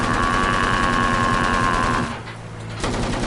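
Sustained rapid automatic gunfire from a video game, a dense continuous rattle for about two seconds before cutting off briefly and resuming.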